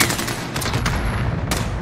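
Rifle gunfire in Call of Duty Modern Warfare 2019, a dense, loud burst of rapid shots with booming impacts over a short stretch, no talk.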